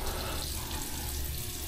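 A tap runs steadily at close range while a bottle is washed, a continuous splashing hiss of water without any talking.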